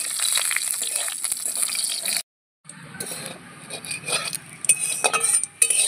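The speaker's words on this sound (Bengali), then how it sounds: "ফোড়নটা একটু ভাজা ভাজা করে নেব।" Dry red chilli and spices fry in mustard oil for a pickle, giving a light crackling sizzle with occasional stirring clinks, broken by a short silent gap partway through.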